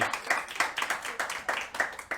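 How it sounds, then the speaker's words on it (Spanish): A church congregation claps in praise during a Spanish-language sermon, sharp bursts of hand claps coming in uneven waves, fairly close and lively, with a little voice mixed in. "un aplauso a Cristo por eso"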